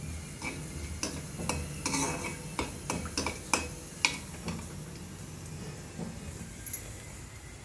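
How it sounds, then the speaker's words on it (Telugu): Whole spices tempering in hot oil for a Telugu brinjal fry with ginger-garlic paste, a soft steady sizzle broken by sharp, irregular clicks of a spoon scraping and stirring the pan, close by, with no talking. "తర్వాత ఆయిల్ హీట్ చేసుకొని మనము పోపు దినుసులు అనేవి వేసుకోవాలి. ఇవి బాగా ఎర్రగా వేయించుకోవాలి."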